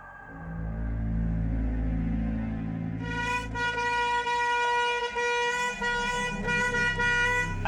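Repeated car horn blasts ring out on a road over a low engine rumble, honking insistently in quick succession with no talking.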